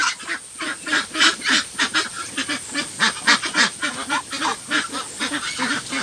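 Ducks honking and quacking in a rapid, rhythmic stream of loud calls, close by, as they are being caught for weighing; no talking.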